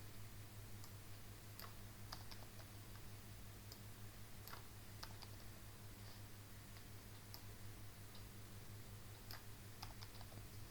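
Quiet keyboard typing while writing a PL/SQL trigger, with scattered light key clicks in irregular bursts over a steady low hum.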